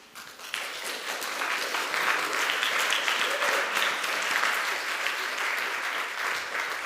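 Audience applause for the presenters at a session on the art and science of feathers, a sustained, even round of clapping from a sizable crowd, rising quickly and holding for several seconds.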